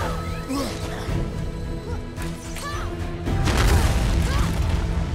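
Explosion in the video game God of War, a heavy crashing boom that swells midway amid ongoing combat clatter, with someone talking over it.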